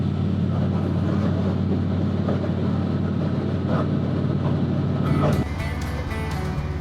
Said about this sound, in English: And a bunch of wind noise.